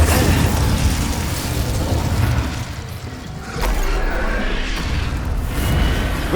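Fire spell effects in Hogwarts Legacy burst and roar in a loud, dense wash of booms and whooshes, with a heavy impact midway and game battle noise throughout.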